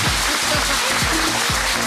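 Studio audience on a French midday TV show applauding loudly, a dense steady patter of many hands clapping throughout, close and continuous.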